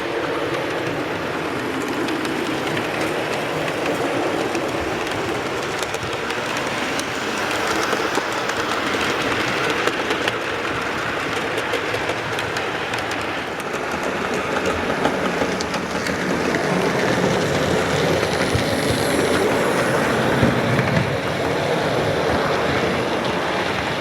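A J63 model locomotive runs on a loft model railway layout, giving a continuous rumbling whir with faint rhythmic clicking. It stays steady throughout and no one speaks.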